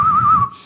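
A person vocally imitates a piercing high-pitched whistle, a single sustained wavering tone lasting about half a second before cutting off, loud and close with no talking over it.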